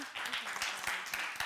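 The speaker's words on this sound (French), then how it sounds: "On peut les applaudir très très fort." Studio audience on a game show claps loudly for the yellow team, a brief dense burst of applause with a voice speaking over it.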